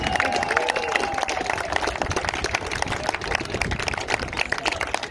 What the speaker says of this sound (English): we'll just give them one more round of applause